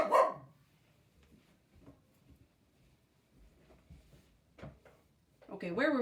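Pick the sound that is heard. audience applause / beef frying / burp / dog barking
dog barking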